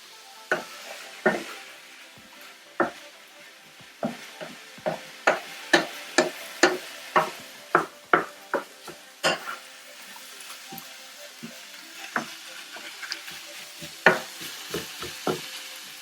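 Ground meat browns in a hot pan for sloppy joes, giving a soft continuous sizzle broken by a run of sharp, close spatula scrapes and clacks against the pan at an uneven rhythm.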